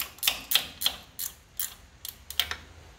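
A ratchet cranks down water pump bolts during a Ford Model A water pump rebuild, giving several short, close bursts of crisp mechanical clicking separated by brief pauses.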